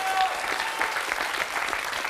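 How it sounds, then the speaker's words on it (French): An audience claps after a performer on a talent show, a short burst of dense applause that stays steady and close with a few voices mixed in. "Oui, on peut l'applaudir."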